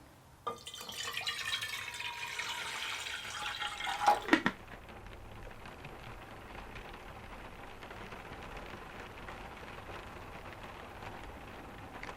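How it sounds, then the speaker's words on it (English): Rain falls outside a cabin during a heavy storm, first a louder, brighter pattering for about four seconds, then a softer, steady drizzle and dripping that continues quietly to the end. "It has begun to rain outside."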